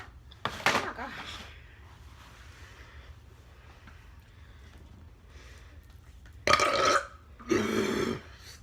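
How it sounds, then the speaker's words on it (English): Two loud, close burps from a person during an Italian meal, one early and brief, then two longer, deeper bursts near the end, set against a quiet room. "I gotta burp."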